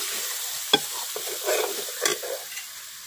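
Mutton karahi being stirred with garam masala and turmeric in a pan, a few close scraping strokes of the spoon over a soft steady sizzle, with no talking.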